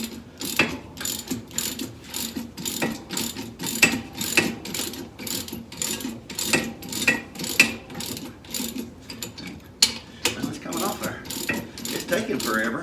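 A hand ratchet clicks in quick repeated strokes while loosening the seat bolts on a 1972 Ford 2000 tractor, a sharp close rhythmic pawl clatter in bursts with brief pauses between pulls.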